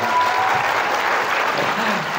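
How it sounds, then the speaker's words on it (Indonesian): A seminar audience applauds together in a dense, steady wash of clapping that holds at full strength throughout, with a faint voice underneath. "tepuk tangan buat LP3I hari ini"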